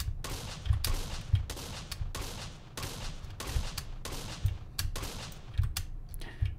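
Video game Gruzchik bomb explosion rendered as a rapid series of sharp booming bursts, repeating roughly every half second to second, with heavy low-end thumps, no talk.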